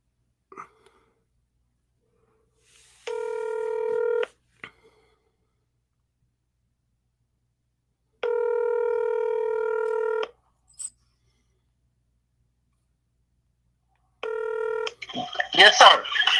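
Touch-tone dialing while placing a phone call: three separate long tone bursts with silent gaps between them, close and clear, ending in a short burst of rustling handling noise.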